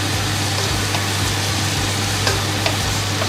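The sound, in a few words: peppers and chili stirred and sizzling in a pan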